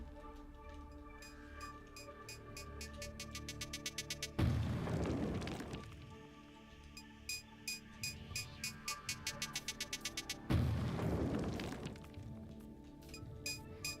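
Bomb blasts destroying Sectorosium in a video game, two loud booming explosions with crackling debris, separated by rhythmic metallic clinks and a droning tonal background.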